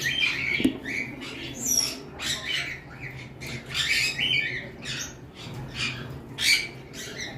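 Lovebirds of several mutations at a bird farm squawk and chatter in overlapping bursts, shrill calls coming close and loud in repeated waves with little pause.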